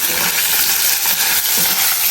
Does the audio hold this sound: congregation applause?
no